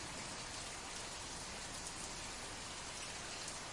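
Steady rain falls evenly and continuously, a soft hiss with no other sounds and no talking.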